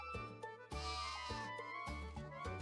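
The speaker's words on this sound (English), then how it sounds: "A lot of sheep here." Sheep bleating in the Final Fantasy III pixel remaster video game: repeated synthesized bleats in regular bursts, close and fairly loud, alone with no talk.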